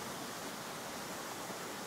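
Hot thermal spring water at Hisaralan, among travertine chimneys, rushing in a steady, even wash of noise with no pauses, close and moderately quiet.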